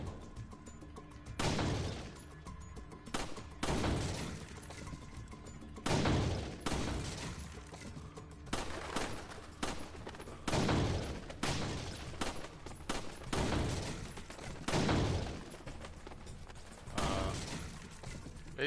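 Gunfire at a firing range in Resident Evil 4: a series of sharp, loud shots spaced irregularly about one to two seconds apart, each with a quick decay, over a quiet ambient background.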